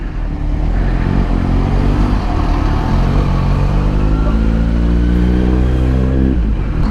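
City rush-hour traffic heard from a motorcycle rider filtering between cars, with a loud, steady engine drone and low rumble throughout, rising slightly in pitch toward the end.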